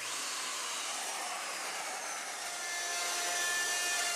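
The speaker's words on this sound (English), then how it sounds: "So all the sanding and everything is done by hand." Wooden boards sanded by hand in a workshop, a steady, continuous abrasive hiss that holds level throughout and swells slightly near the end, with no talk over it.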